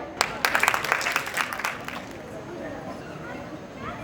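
Applause from the audience at an International Women's Day function, a burst of clapping in the first two seconds that quickly dies down into a quiet room murmur.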